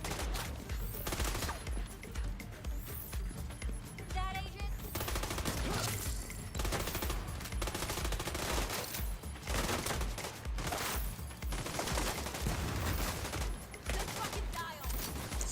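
Gunfire in The Division 2, rapid bursts of automatic and single shots cracking repeatedly across the whole stretch, loud and close, with brief gaps between volleys and some talk mixed in.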